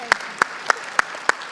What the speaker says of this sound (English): I always clap for that.